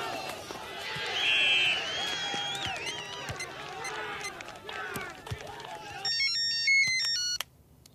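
A phone ringtone for an incoming call sounds near the end as a bright repeating electronic melody, following a stretch of busy background music and voices.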